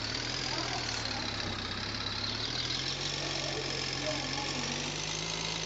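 A vehicle engine runs steadily in a Tamil-language video game, an RV driven over rough ground, giving a continuous low idling drone with a faint knocking texture, close and even throughout.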